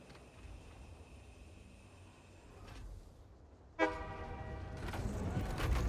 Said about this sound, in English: We'll just ride the train back.